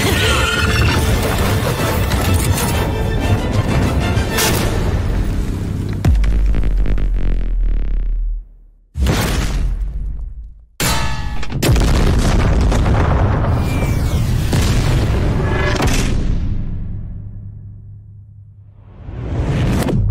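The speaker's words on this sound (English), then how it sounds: "He risks his life and limb to finally deliver an attack powerful enough to stop Orochi" Booming explosive attack effects for Juggernaut in the Fire Force anime: loud sustained rumbling blasts and whooshes that cut out abruptly several times, then a long roaring explosion fading away before a final surge.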